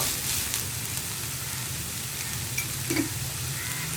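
Salted taro stems for a Kerala-style thoran fry in a pan with a continuous dense sizzling hiss, close and even, with a faint stirring scrape near the end.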